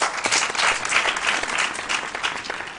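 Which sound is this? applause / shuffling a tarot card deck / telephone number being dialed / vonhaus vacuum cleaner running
applause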